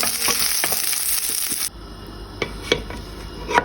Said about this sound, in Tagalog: mag-isa na tayo ng bawang, sibuyas, at luya